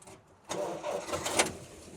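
A 1954 Jeep Willys engine cranks and catches, settling into a steady, close, rough mid-pitched running note for about a second and a half.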